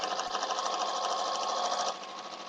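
A sewing machine stitches a seam on a log cabin quilt block, a close, fast, even whirring rattle that steps down in level near the end as it slows.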